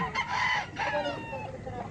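A fighting rooster crows loudly and close at a gamecock market in Lipa, Batangas, Philippines, a drawn-out call followed by another, with clucking fowl and faint chatter around.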